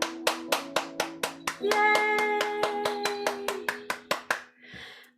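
A group at a spiritual gathering claps hands in a steady, accelerating rhythm of crisp claps, with a sustained tone ringing underneath partway through, a child's cheer near the end, then a brief soft rustle.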